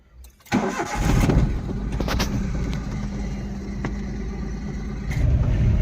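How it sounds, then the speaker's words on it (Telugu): A used Maruti Alto XLI small car cranks briefly and fires, then settles into a steady, close idle that picks up slightly near the end, with no talking. "స్టార్ట్ చేసి చూద్దాం, మనకి ఇంజన్ కండిషన్ కూడా ఎలా ఉందో చూద్దాం."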